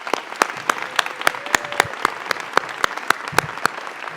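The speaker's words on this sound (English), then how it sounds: "Big round of applause for Neil Arnett." An audience at a Kentucky education technology conference closing ceremony applauds an honoree, giving a sparse, steady run of distinct claps that stays fairly even throughout.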